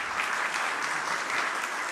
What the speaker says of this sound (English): Could we please all give them a round of applause?